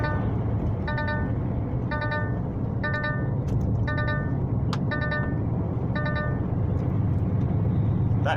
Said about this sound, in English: That beep beep beep you're hearing